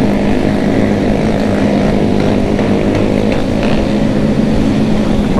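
A motorcycle engine drones steadily and loudly without a break, a continuous rough hum close to the listener.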